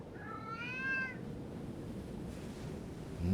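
A cat in a point-and-click adventure game gives one short, rising-and-falling meow over a quiet background hum, followed by stillness.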